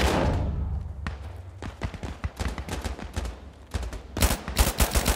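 A big gun fires in Insurgency Sandstorm, sharp close bursts of automatic fire in irregular clusters, loudest near the end.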